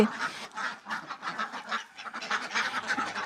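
Ducks on a farm quack repeatedly in quick, overlapping bursts, several birds calling together at close range, fairly loud and continuous.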